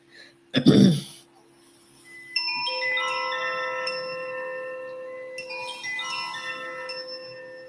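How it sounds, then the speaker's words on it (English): A bright, ringing chime marks the start of a timed journaling session, struck twice with long shimmering decay after a close cough, in a quiet room. "you'll hear that same chime when we come back after the 15 minutes"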